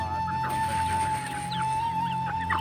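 An Aseel fighting rooster clucks in short bursts over a steady high whine and low background hum.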